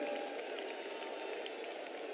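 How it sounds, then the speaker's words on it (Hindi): A large crowd at an outdoor public rally in Jodhpur, Rajasthan, claps for Prime Minister Narendra Modi, a steady distant wash of applause with no voices on top. "एक बार जोरदार ताली बजाकर आदरणीय प्रधानमंत्री जी का वंदन करें, अभिनंदन करें"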